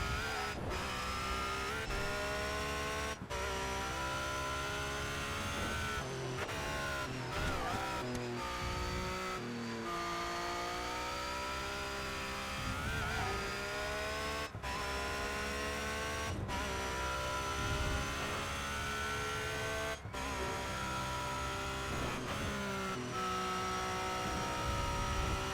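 Racing car engine from ToCA Race Driver 3 in a British GT race, with damaged suspension, droning steadily with rising and falling revs, sharp gear-change drops and occasional bumps and bangs, loud and continuous throughout.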